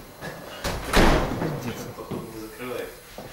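A door slams shut with a heavy thud during a bodyguard training class, standing out as one sharp bang amid muffled room noise and people talking in Russian.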